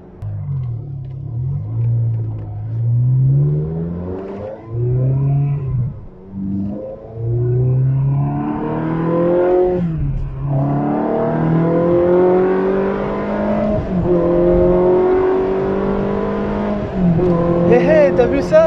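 A Ferrari engine rumbles and climbs in pitch as the car accelerates, loud and close, with rising harmonic sweeps and voices talking over it.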